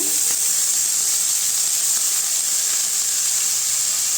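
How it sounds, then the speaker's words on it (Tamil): Sliced onions frying in oil in a pan for a ridge gourd stir-fry, a steady loud sizzling hiss throughout with no talking. "வெங்காயம் நல்லா வதங்கி வருதுங்க"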